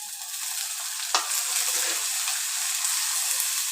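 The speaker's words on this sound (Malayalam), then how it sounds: "നല്ലവണ്ണം ചുവന്നുള്ളിയും വഴറ്റി കൊടുക്കാം." Finely chopped shallots sautéing in hot oil for a Kerala-style fish curry, a steady close sizzle with a brief stir scrape partway through.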